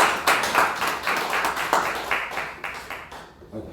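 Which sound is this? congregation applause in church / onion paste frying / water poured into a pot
congregation applause in church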